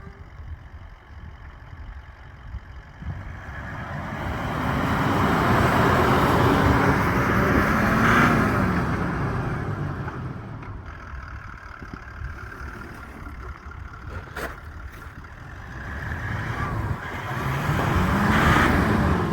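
Toyota Land Cruiser pushing through slushy wet snow in winter Lesotho, its engine rising and falling in long swells of rumble and tyre wash, fairly close and steady.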